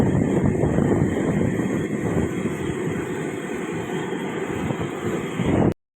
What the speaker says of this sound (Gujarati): પવન બહુ જ છે અહીંયા